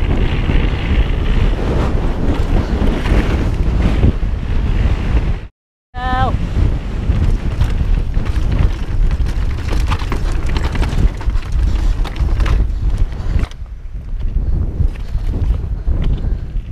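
Strong outdoor wind at Fort William buffets the microphone in loud, roaring gusts. It runs almost nonstop, cuts out briefly once, and carries a faint voice within it.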